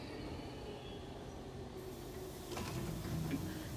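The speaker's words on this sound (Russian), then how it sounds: "Комфортнейший класс, мы ездим на поезде." A train in The Outlast Trials video game runs along the rails with a low, continuous rumble and rattle that grows louder and rougher in the last second.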